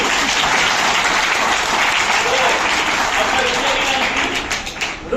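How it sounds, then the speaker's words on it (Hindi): A college audience at a Jaipur poetry event claps: a dense, loud, continuous wash of applause that fades slightly near the end, with some voices mixed in. "ताली बजा दो ताकि पानी पी लूं"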